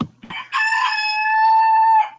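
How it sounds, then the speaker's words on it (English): A household rooster crows once up close, loud and clear. A brief rising start stretches into a long, held, strained call that ends abruptly, with a few faint clucks just before it. "I guess you can hear the rooster of the family"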